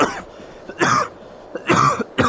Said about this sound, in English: And I am still coughing, sadly.